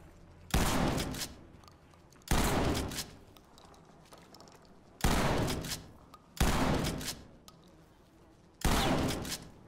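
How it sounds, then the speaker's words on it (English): Shotgun blasts in the tactical shooter Ready or Not: five loud, booming shots at irregular intervals, each followed by a brief echoing tail, with quiet room tone between them. "Let's see if a shotgun will work."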